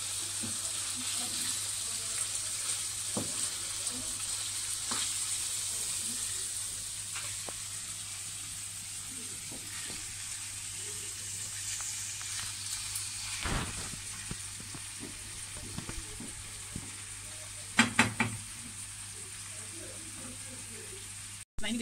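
Food fries quietly in a pan as it is stirred to keep it from sticking or burning, giving a soft, steady sizzle with light scraping taps and a brief louder clatter near the end.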